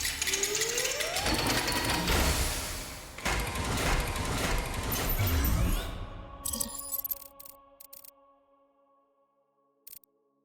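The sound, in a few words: beacon powering up in the video game Beacon of Neyda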